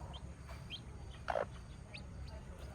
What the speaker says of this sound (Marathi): ती शिकवते कोंबडी